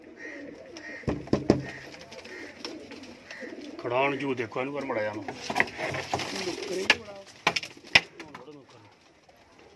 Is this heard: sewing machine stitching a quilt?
no